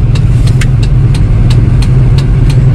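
A 2002 Toyota Kijang LGX with a 2.0 EFI engine pulls away in first gear, its low engine drone steady and close. A faint, regular ticking runs over the top.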